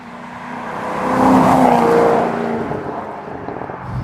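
A 2010 Maserati GranTurismo S with a single-clutch automated manual gearbox drives at modest speed, its engine note swelling and easing in a steady cabin drone.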